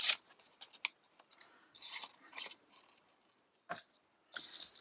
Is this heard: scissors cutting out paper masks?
yes